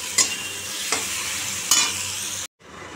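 Potato and pointed gourd curry with salt, turmeric, spice powders and chopped tomato sautéing in a pan, a steady sizzle broken by three sharp spatula scrapes before cutting off abruptly near the end.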